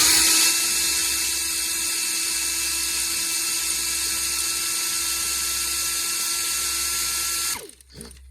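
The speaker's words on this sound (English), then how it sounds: "Don't use an air ratchet on spark plugs. I don't care when I'm taking them out." An air ratchet removes spark plugs from a 2017 Chevy Traverse, producing a loud, steady high-pitched whine that runs continuously for over seven seconds before cutting off abruptly into brief rattles.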